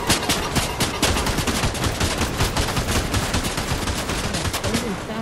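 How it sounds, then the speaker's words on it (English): Rapid, dense gunfire in a Fortnite match, continuous bursts of shots from players firing at once, loud and unbroken throughout with faint voices underneath. "It's like two different people shooting anyway"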